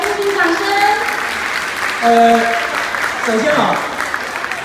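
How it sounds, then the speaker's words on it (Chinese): An audience applauds at an International Volunteer Day ceremony, a broad wash of clapping with someone speaking over it through a microphone. "来听听掌声。"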